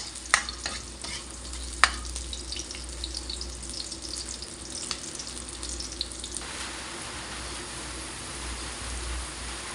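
Garlic and onion sizzle together in hot oil in a pan, a steady frying hiss broken by a few sharp clinks and stirring scrapes, with no one talking.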